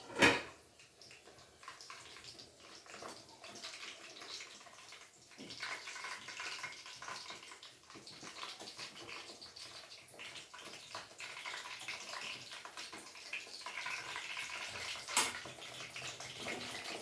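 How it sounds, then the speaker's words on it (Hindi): Hands being washed under a running tap in a home kitchen, a steady stream of water splashing continuously and softly at close range with faint clinks, no talking. "तो जी हाथ धो लेते हैं और पोंछ लेते हैं।"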